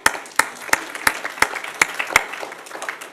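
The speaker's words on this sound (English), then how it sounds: "I think we can clap our hands." Audience clapping at a science conference, with sharp, fairly regular claps standing out over a steady bed of lighter applause across the hall, loud and close throughout.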